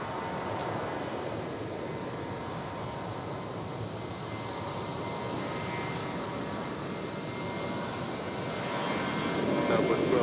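A Delta jet airliner lands on runway 19 right at Tampa International Airport, its engines a steady broad roar that swells slightly toward the end.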